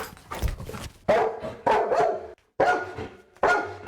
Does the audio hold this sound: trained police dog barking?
yes